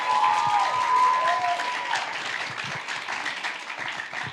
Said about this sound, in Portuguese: Vamos aplaudir o Senhor pela vida dela.